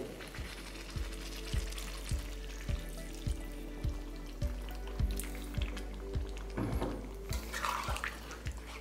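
Water goes into a pan of potato and cauliflower curry. It makes a faint, low sizzle with regular soft knocks and a brief louder splash and bubbling near the end, and no speech is heard.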